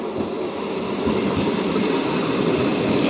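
A train arriving from Sealdah at New Garia station gives off a steady, fairly loud rolling rumble and rail noise, continuous throughout without voices.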